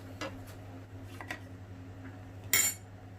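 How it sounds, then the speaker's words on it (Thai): A spoon stirs salt into fresh orange juice in a glass, producing a few soft taps and then a bright, sharp clink of metal against glass near the end over a steady low background hum. "ใส่เกลือลงไปนิดนึงนะคะ คนให้ละลายเข้ากัน"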